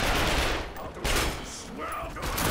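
Dense gunfire from The Darkness 2 rattles in fast overlapping bursts across a couple of seconds, loud and busy, with a voice faintly mixed in.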